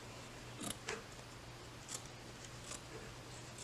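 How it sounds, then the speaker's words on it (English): A few crisp scissor snips cutting appliqué fabric, spaced irregularly, close and quiet over a low steady hum. "these are my favorite pair of scissors, so I use these. And you just simply cut this away"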